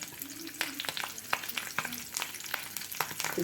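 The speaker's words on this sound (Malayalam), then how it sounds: "എണ്ണ ചൂടായിട്ടുണ്ട്. അതിനകത്തോട്ട് നമുക്ക് കറിവേപ്പില. കറിവേപ്പില ഇടാം." Home-grown curry leaves drop into hot oil for a chicken fry and sizzle with dense crackling, broken by sharp spits and pops and stirring clicks, close and steady with no talk.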